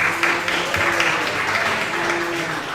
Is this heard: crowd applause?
yes